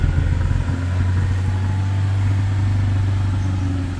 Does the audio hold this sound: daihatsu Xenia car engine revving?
yes